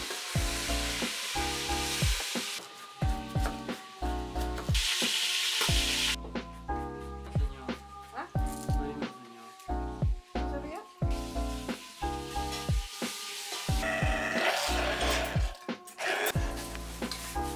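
Chicken frying in a pot of oil for Peruvian arroz con pollo, with steady loud sizzling and crackling throughout, broken by scraping and stirring clatter from a utensil against the pot.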